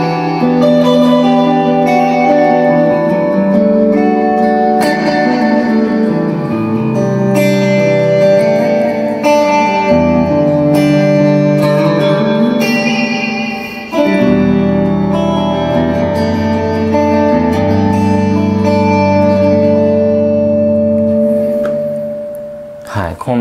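A rich, thick guitar tone from an Eventide H90 effects pedal preset, drenched in lush reverb and effects, sustained chords swelling into a dense, synth-like wash, loud and continuous.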